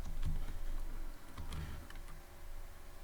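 Keys clack on a computer keyboard while Python code is entered, a scattered run of crisp, close clicks over a steady low background hum, with no voices.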